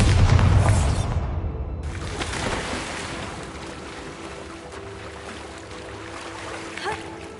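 A Bombarda spell explodes in the Hogwarts Legacy video game with a loud, broad blast at the start, followed by a long rumbling decay that fades over several seconds.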